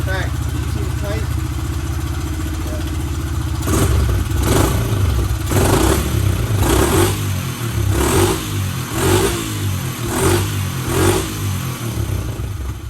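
A Honda XR70 dirt bike engine, just repaired after being seized, runs close by with steady low thumping and repeated throttle blips rising and falling, while a person talks over it.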